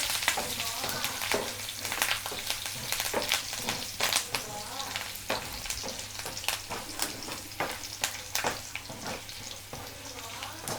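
Cumin seeds and fresh curry leaves crackle in hot oil for a tempering, a steady close sizzle with sharp popping bursts and occasional stirring scrapes throughout.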